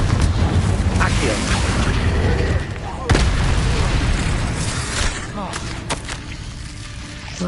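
Booming explosive spell blasts and crackling magic effects in the video game Hogwarts Legacy, including a Confringo blast, loud and dense with a sharp burst near the middle, under continuous game sound and a speaking voice.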